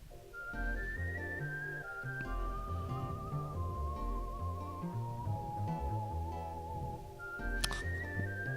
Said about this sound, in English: I think I'm going to turn the whistle down just a tad